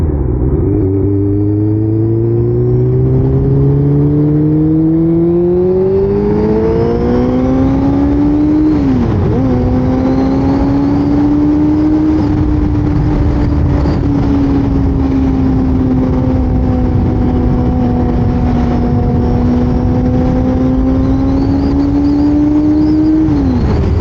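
A sport bike accelerates hard to pass a learner on a commuting road. The engine note climbs loud and close through rising gears, with a brief dip at a shift before it settles into a sustained high drone over wind rumble.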